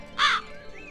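Single crow caw, a loud harsh nasal call lasting a fraction of a second over a quiet background, followed by fainter tonal chirps.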